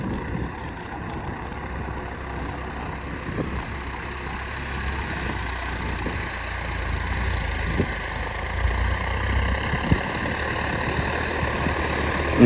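Steady low diesel rumble of a John Deere 5405 tractor engine running in D-range second gear, continuous and fairly loud throughout with a few faint clanks over it and no talking.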